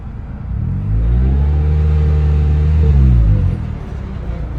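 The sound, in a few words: turbo Toyota Corolla with blown transmission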